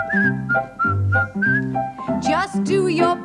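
Someone whistles a bright, bouncy tune in short repeated phrases over a sung children's song with backing music, loud and close, the whistled notes alternating with voices.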